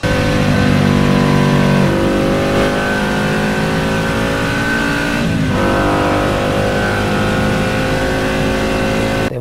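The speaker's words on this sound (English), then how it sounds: "It was the most beautiful sound coming out of a motorcycle I had ever heard." Loud, close engine of a 1974 Ducati 750SS motorcycle revving continuously with harmonic drones rising and falling, a throaty sound that holds steady throughout.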